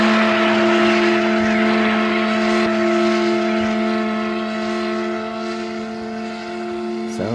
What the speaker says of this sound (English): It looks like the engine still works.